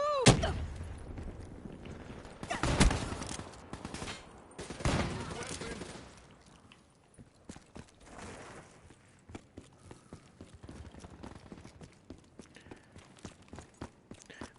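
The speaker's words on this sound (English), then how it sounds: "Here comes the John Wayne gun again." Rapid gunfire from a rifle in a PS4 shooter game, loud bursts of shots in the first few seconds, then quieter scattered pops and footsteps trailing off.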